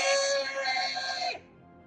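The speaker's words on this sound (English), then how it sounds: "have you ever heard a slug scream?" A slug screams in a video game: a shrill, wavering, tonal screech that holds loud for over a second, then cuts off abruptly into quiet.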